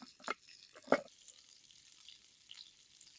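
Food frying in a pan over an outdoor fire in a forest, slightly burning: a couple of sharp sizzling bursts early on, then a faint, steady crackle that fades.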